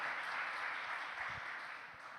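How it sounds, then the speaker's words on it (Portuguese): Steady applause from a church congregation praising God during a pastor's sermon, a dense even wash of clapping that holds for the whole stretch and eases slightly toward the end. "Vamos aplaudir o Senhor?"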